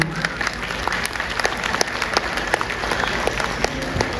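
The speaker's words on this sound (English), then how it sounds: "A round of applause for all the children" Parents and audience applauding children after their performance at a kindergarten family day programme: steady crowd clapping with sharp individual claps, loud and sustained throughout.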